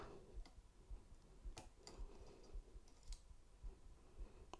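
Lishi pick working inside a Kia car lock, faint close metallic ticks and clicks spaced irregularly over a soft hiss, with no talking.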